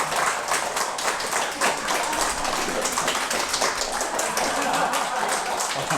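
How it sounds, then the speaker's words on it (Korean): An audience claps at a church lecture on the Book of Isaiah. Brisk, crowded clapping rattles on steadily at a loud, even level, with some voices mixed in underneath. "뭐 하지도 않았는데 와 박수 치노."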